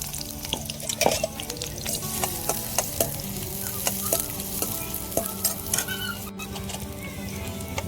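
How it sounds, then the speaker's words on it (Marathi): Onion frying in hot oil on a wood-fired stove, a loud continuous sizzle and crackle with frequent sharp pops and scraping clicks as it is stirred, close and steady for several seconds. "तेल गरम झालं, कांदा टाकून घेऊ."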